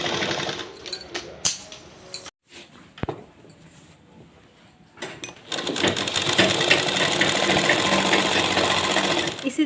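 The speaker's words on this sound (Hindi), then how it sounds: "उल्टी साइड की तरफ हम ये पट्टी वाला कपड़ा रखेंगे और इसको जो है बराबर से सिलते चले जाएंगे लास्ट तक" Sewing machine stitching a fabric strip along the reverse side of a ladies' pant, starting with short bursts and clicks, a pause, then a steady, fast, close whirr of continuous stitching.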